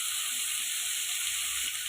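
Steady, close sizzling of onions and tomatoes frying in a pan, a continuous hiss with faint stirring scrapes underneath.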